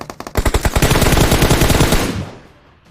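Rapid automatic gunfire in a PUBG Mobile match, a few sharp opening shots then a loud dense burst lasting under two seconds before trailing off, with no talk over it.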